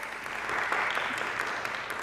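A talk show studio audience applauds, a dense, even clapping that holds steady throughout without voices.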